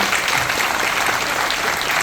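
A theatre audience at a Marathi stage event applauds, dense and loud sustained clapping from many hands filling the room without a break.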